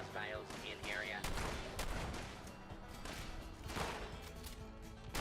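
Gunfire in the video game Fallout 76, dense bursts of shots cracking one after another over game music and background effects, with speech mixed in at times.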